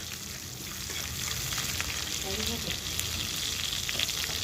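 Garlic, cumin and mustard seeds fry in hot oil in a pan for mango dal, a loud, steady, close sizzle with fine crackles and no one speaking.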